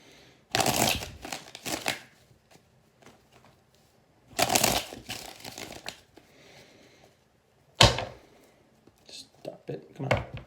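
Tarot cards are shuffled in three distinct riffling bursts, close and crisp, separated by pauses with soft handling noises and some speech in between.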